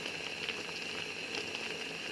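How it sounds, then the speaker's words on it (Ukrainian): A cucumber-mustard relish sauce bubbles in a pot at a steady boil, a continuous close hiss with small popping bursts. "Як закипить, добряче прикручую вогонь і залишаю його е, протушуватися на 15 хвилин."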